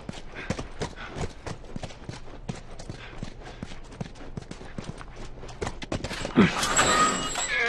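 Horse hooves clip-clop in a steady, regular rhythm as a horse walks in The Last of Us video game, close and fairly loud, with a brief burst of other game sound near the end.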